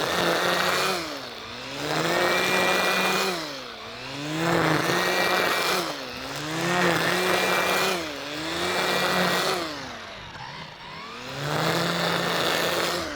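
Makita cordless brush cutter, running in its strongest high-torque mode, cutting grass with a loud, steady whine that swells and dips in roughly two-second sweeps as the head moves through the growth, close up with no talking.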